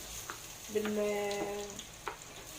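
Lamb fat and rice sauté in a pan for fatta, a soft steady sizzle with light stirring scrapes, quiet and close, with a brief tonal squeak partway through.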